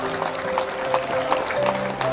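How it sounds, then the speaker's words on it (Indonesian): Audience applause at a public speech in Indonesia, a steady, fairly even patter of many hands clapping, moderately loud, with faint voices underneath. "Tepuk tangan untuk Indonesia tercinta."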